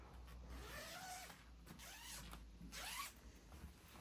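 A zipper on a bag is pulled open in three short rasping strokes, each with a rising scratchy sweep, close and fairly quiet against a low background hum, with no talking.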